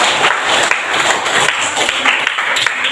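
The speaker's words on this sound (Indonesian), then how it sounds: "Jadi tepuk tangan untuk kita semua." Applause from a group at the close of a classroom lesson, a dense, steady patter of clapping held at a fairly loud level for the full three seconds with no talk over it.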